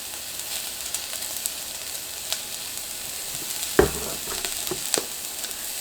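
Garlic sizzles in a hot pan while gluten-free ramen is being prepared, a steady close hiss broken by a few sharp utensil clicks, with no talking.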